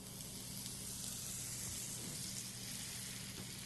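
Butter sizzles in a hot pan, a steady, loud, continuous hiss and crackle with no voices over it.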